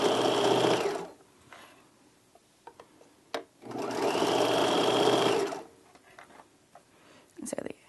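Sewing machine stitching across the opening of a drawstring backpack, two steady whirring bursts of about two seconds each separated by brief pauses with small handling taps and fabric rustle.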